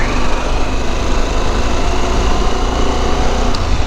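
Harley-Davidson Pan America motorcycle engine with its quiet stock muffler, a steady continuous drone heard up close while riding along back roads, with no talking.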